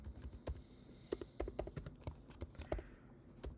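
Quiet computer keyboard typing in irregular bursts of separate key clicks, close and clear with no talking.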